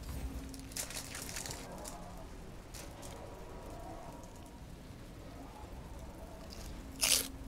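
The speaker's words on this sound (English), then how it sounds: "Is the crunching annoying? Can you guys hear it?" Steady close crunching and rustling crackle runs under gameplay of Warhammer Age of Sigmar: Storm Ground, with a sharper burst near the end and no speech.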